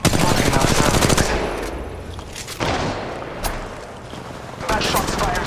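Rapid automatic gunfire in a battle royale shooter, a dense loud burst over the first two seconds, then scattered shots and another volley near the end, with a voice speaking between the bursts.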